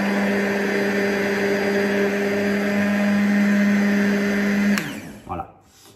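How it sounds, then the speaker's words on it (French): Immersion blender whirring steadily while mixing a strawberry milkshake base, a loud continuous motor drone that cuts off near the end, leaving brief handling noises. "Vous prenez un mixeur plongeant, plongez dedans."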